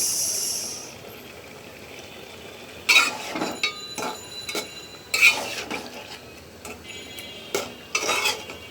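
Fish head sautéed with tomato and green chili in a pan, stirred with utensils: several distinct scraping clatters of spoon on metal at a steady stop-start pace, close by, over a faint low kitchen hiss, with no talk.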